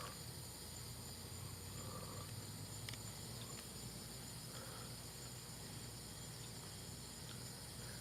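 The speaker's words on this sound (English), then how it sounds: "I love the sound of crickets" Crickets chirp outdoors at night in a steady, faint, continuous high trill, heard at a distance under a low, constant background hiss with no talking.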